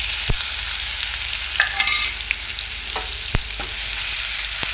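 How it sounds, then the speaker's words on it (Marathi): Cumin, garlic and finely chopped chili frying in hot oil for a thin shepu (dill) and chuka vegetable curry, a steady close sizzle with a few sharp utensil clinks and stirring scrapes, no voices. "तेल गरम करायला ठेवले त्यात जिरे टाकायचे नंतर लसूण आणि मिरची बारीक केलेली"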